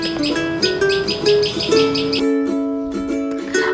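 A small bird chirps rapidly and repeatedly at close range, bright high tweets in quick bursts with brief pauses, no talking.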